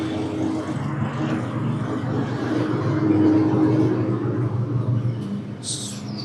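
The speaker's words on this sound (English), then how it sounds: "Next door neighbour's mowing his lawns." A low, steady lawn mower drone hums next door in the distance throughout, swelling slightly midway.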